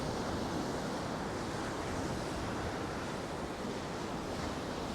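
Choppy sea waves along the Southwold seafront on the Suffolk coast, heard as a constant, loud wash of surf mixed with wind rumbling against the microphone, with no voices.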